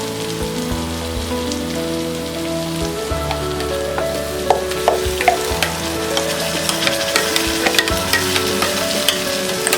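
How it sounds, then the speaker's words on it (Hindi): Spinach puree fries in a pan with softened tomato and onion for palak khichdi. A dense, steady sizzle crackles close up, with occasional stirring scrapes over a constant low kitchen hum. "मिक्स कर देते हैं और 2 मिनट तक हम पालक प्यूरी को भी फ्राई करेंगे"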